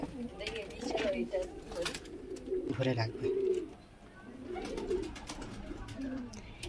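Pigeons coo softly in a Pakistani pigeon loft, low throaty calls repeating under close conversation between several people.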